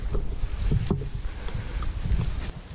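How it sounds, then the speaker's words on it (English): Wind buffets an outdoor microphone in a South Florida backyard during a renovation, a loud, continuous low rumble with uneven gusty thumps and no talk. "Wind's blowing, blew down the camera, whatever."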